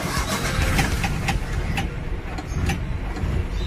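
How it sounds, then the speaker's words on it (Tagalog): A car with a manual transmission and modified hand controls idles quietly, giving a steady low engine drone heard from inside the cabin, with faint ticks over a broad constant rumble. "Tahimik din ang makina."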